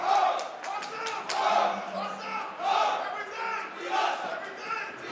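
An athlete at a Team Combat League team fighting event in South Carolina yells repeated rallying shouts to his team and the arena crowd, loud rhythmic bursts over a busy crowd roar.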